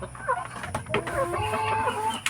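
Black Australorp laying hens clucking close by, a string of short, soft warbling clucks and murmurs in a quiet coop with no talk over them.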